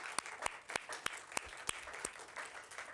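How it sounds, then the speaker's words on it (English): Applause from an audience at a poetry reading, a steady wash of many hands with a few sharp, distinct claps standing out, fairly quiet and heard with no voices over it. "let's give them another round of applause"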